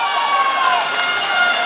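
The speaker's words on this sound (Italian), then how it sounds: "Una bolgia infernale da parte delle due tifoserie" Basketball fans of two rival sides fill an arena with a dense, continuous roar of crowd noise, loud and steady throughout with no single voice standing out.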